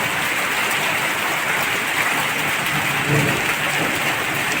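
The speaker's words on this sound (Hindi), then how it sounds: "ये देखिए कितनी बारिश हो रही है।" Steady, dense downpour of heavy rain hissing across everything, constant and loud with no breaks, a faint low rumble briefly rising near the end.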